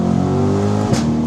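2025 Chevrolet C8 Corvette revving with a single sharp exhaust pop near the end of a short, loud, close engine drone.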